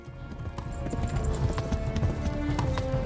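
Horse hooves galloping in the medieval game Kingdom Come: Deliverance, a quick, steady clip-clop rhythm close by over a low rumble, with no voices.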